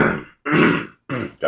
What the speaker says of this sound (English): Got to clear my throat because I'm going to read this presidentially